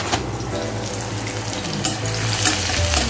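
Okra and vegetables fry in a pan for an Odia home-style curry, a steady broadband sizzle with clinks and stirring, joined by running water from a tap, close and continuous with no talk.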